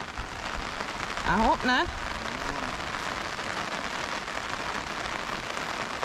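Steady rain falls on an outdoor cooking spot in Jamaica, a dense close hiss throughout, while a person speaks briefly in the middle.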